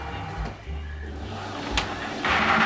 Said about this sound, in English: I pressed the go button and let the Cricut machine do its thing.